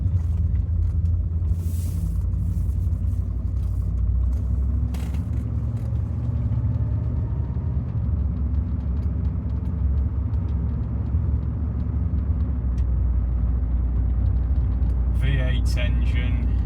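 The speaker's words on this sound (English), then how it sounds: "V8 engine." A 1980s Bentley Eight's V8 engine, the non-turbo version, rumbles steadily from inside the cabin while driving, with a low continuous drone throughout and someone talking over it.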